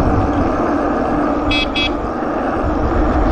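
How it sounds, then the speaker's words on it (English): Two short, high electronic beeps from the horn of a Freesky Himalaya X-5E 750 W e-bike sound over steady wind and road noise. "It's got a horn."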